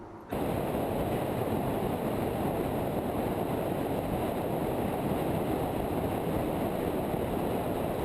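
Loud, constant roar of tires on the road with a low engine drone underneath from a Mercedes-Benz SLK 200 BlueEfficiency roadster at about 80 km/h, steady throughout after a brief quiet start.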